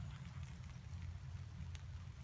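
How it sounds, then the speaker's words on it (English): Steady rain falls in the woods, a dense, even wash with low rumble and no breaks across the short stretch, heard alone without voices. "As long as the rain isn't too bad"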